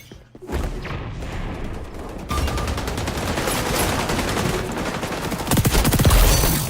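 Submachine guns rattle in XDefiant with fast, dense bursts of automatic fire. A heavier thud lands partway through, and a louder, closer volley comes near the end. No one speaks.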